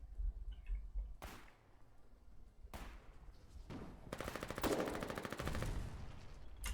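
Gunfire in the Foxhole war game: a few isolated sharp cracks spaced apart, then a rapid automatic burst, fairly faint over a quiet background.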